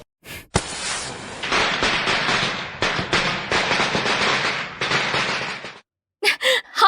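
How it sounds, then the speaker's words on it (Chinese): Long, dense string of firecrackers crackling loudly and continuously for about five seconds, set off outdoors at the opening of a hotpot restaurant in an ancient-style setting, followed by brief scattered pops after a pause. "小七，咱们准备去放鞭炮"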